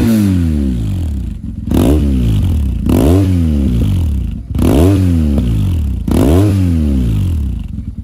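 A BMW R1150 GS motorcycle with about 90,000 km and signs of poor upkeep revs its engine in four loud, close bursts, each rising and falling in pitch with brief dips between.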